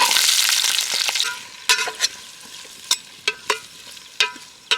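Onions fry in hot oil in a pot over an outdoor fire, a loud hissing sizzle that fades slightly, punctuated by several sharp stirring scrapes and clacks at irregular intervals.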